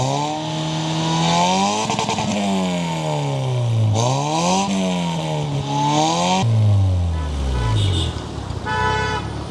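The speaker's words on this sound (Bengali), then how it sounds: "এই যে আমি অন করলাম এক্সস্ট, এই যে সাউন্ড" Aggressive revving from a car whose remote-controlled exhaust valve has been opened, with repeated rising and falling blasts of engine note, loud and close, including a sharp rev near the end.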